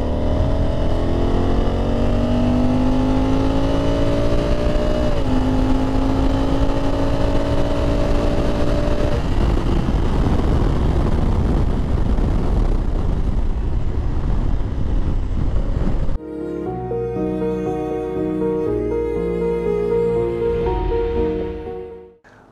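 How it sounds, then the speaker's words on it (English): Honda motorcycle with a DCT dual clutch transmission at full throttle from 3000 RPM in fifth gear, a loud continuous engine roar rising in pitch for about sixteen seconds before shifting to a different, steadier tone. "and I'm going to fully open the throttle."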